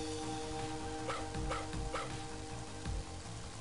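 Dog barking in the video game Mother 3, a few sharp barks spaced about half a second apart, heard over steady game music and ambient noise.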